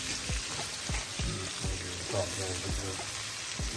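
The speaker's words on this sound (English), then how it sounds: "Sizzling bacon, ladies and gentlemen" Bacon sizzles steadily in a pan on a flat top, a dense hiss and crackle with a series of soft, regular scraping or stirring knocks underneath.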